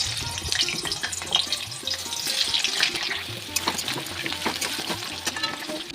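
Potatoes fry in oil in a wok with a close, crackling sizzle, broken by frequent scraping and clattering strokes of a spatula stirring them.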